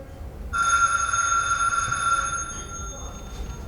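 A telephone bell rings in one long continuous trill during a stage play, bright and fairly loud, stopping abruptly after about two seconds over a faint room background.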